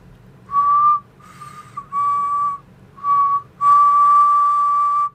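A person whistles while breathing in, making five clear sustained notes separated by short pauses, close and loud in a quiet room, with the last note held longest.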